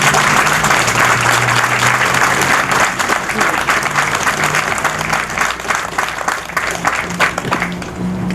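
Sustained audience applause fills a ceremony hall as a chairman is welcomed to the stage at a military-themed Kenworth T680 truck event, steady dense clapping throughout with a faint murmur of voices.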